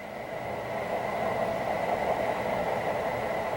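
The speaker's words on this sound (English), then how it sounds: "if I press Startup, the sound system in this engine starts up" A model train locomotive's onboard sound system running in DCS command mode, giving a steady, close diesel-style engine drone with a constant hum and no talk over it.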